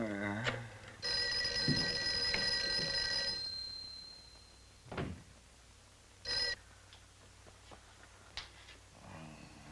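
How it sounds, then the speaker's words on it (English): An old-fashioned telephone bell rings in a 1959 film scene and goes unanswered, a loud trilling burst lasting a couple of seconds, followed by quieter scattered thumps and clicks in a room. "Mary, see if you can get Jan on the phone"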